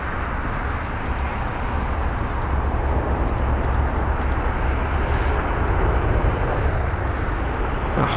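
A Japan Airlines airliner on the runway at London Heathrow gives a continuous broad jet roar, steady and loud, heard at a distance with no talk over it.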